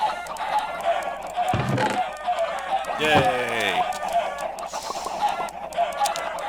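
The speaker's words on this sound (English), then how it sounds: "Oh, the chickens have grown." Chickens in a Minecraft 1.9 farm cluck and squawk in a busy cluster with a rooster-like crow rising near the middle, while a person talks and cheers over them.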